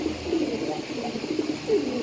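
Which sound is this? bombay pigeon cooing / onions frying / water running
bombay pigeon cooing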